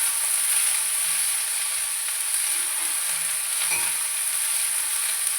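Chopped onion, green chilli and curry leaves sautéing in a pan, a constant soft hiss and sizzle with faint occasional stirring knocks underneath.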